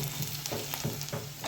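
Eight to ten finely chopped garlic cloves sizzle in hot oil with cumin and asafoetida for a dhaba-style fenugreek curry, a close, steady crackling fry broken by soft rhythmic stirring scrapes.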